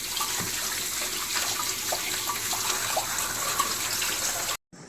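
Prawns are rinsed under a running tap, with a steady stream of water splashing into a sink and faint intermittent drips and clinks, and the flow cuts off abruptly at the end.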